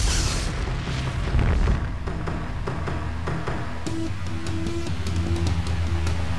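A deep, rumbling bomb blast in a thriller film trailer, booming low at the start and then fading into a steady roar with layered dramatic tones.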